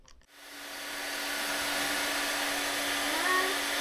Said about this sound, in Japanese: そしてタマは奴隷のように娘への髪を乾かす図式